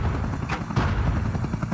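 A Black Hawk helicopter roars loud and steady, its rotor chop pulsing rapidly in a dense, continuous drone with no voices over it.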